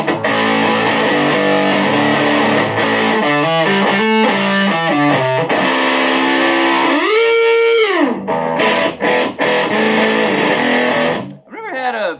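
Electric guitar through a Boss TB-2W Tone Bender fuzz pedal, playing sustained fuzzy chords and note bends with some sliding pitch sweeps, loud and continuous before stopping near the end.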